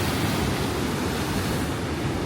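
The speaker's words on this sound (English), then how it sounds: "The waves are splashing up right here." Ocean waves splash steadily at Windansea Beach, a dense, close roar of surf washing over the shore with no voices.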